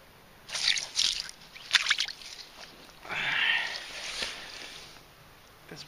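A coho salmon is released back into the water, giving a few close wet sloshes and splashes, with a longer surging splash midway through, outdoors on a dim evening.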